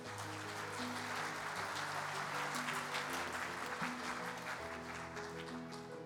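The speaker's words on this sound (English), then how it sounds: "Let's give the chapters in the Silver Division another round of applause." Audience at the Kansas FFA Convention applauds the Silver Division chapters, a sustained, even patter of many hands in a large hall, set against steady sustained music tones.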